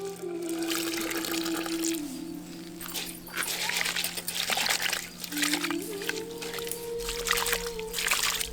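Small dried fish are swished and rinsed in hot water in a village kitchen, giving irregular sloshing and splashing with tap-like water sounds and steady tonal background noise.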